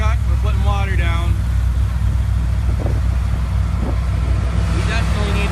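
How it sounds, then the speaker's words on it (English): A John Deere water truck rumbles along a drag strip, wetting the track, its heavy low engine drone steady throughout while a voice talks over it. "Here's the water truck. We're putting water down."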